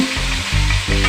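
Curry leaves and ground chutney dropped into hot oil, a loud, close burst of sizzling and spattering that surges twice in quick succession.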